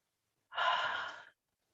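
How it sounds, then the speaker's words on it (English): A single slow, deep breath, exhaled softly through the mouth during a gentle yoga practice, a close, quiet breathy rush lasting under a second in otherwise silent surroundings. "2 deep breaths here, in through the nose, out through the mouth."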